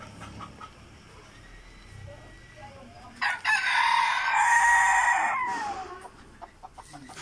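A rooster crows loudly nearby, one long drawn-out call lasting a couple of seconds, with quieter farmyard sounds before and after.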